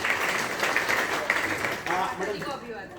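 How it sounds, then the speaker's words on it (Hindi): Mourners at a memorial gathering for a deceased mother applaud, a broad, steady clatter of many hands with voices heard through it. "एक बार उन लोगों के लिए जोरदार ताली चाहूँगा"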